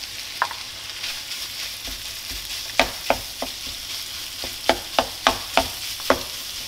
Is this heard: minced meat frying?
yes